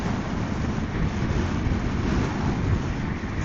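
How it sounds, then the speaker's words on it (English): Wind buffets a microphone outdoors in a steady, loud rumbling roar with no pauses and no voices. "the wind is distracting me because I'm constantly overcorrecting for it pushing me away"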